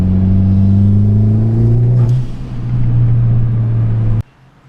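A Subaru with its exhaust fallen off rolls in with a loud, raw, droning engine rumble, close by. The tone shifts slightly midway, then the engine shuts off abruptly, leaving quiet.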